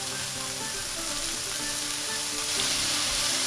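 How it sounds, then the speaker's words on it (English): Garlic sizzles in a hot frying pan for a shepherd's pie, giving a steady, dense crackle and hiss that carries on without a break. "We are ready to add the garlic."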